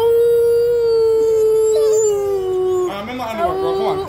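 A long, steady sustained howl from dogs blends with people howling along, then gives way to wavering, overlapping yips and whines, loud and close, as voices join in.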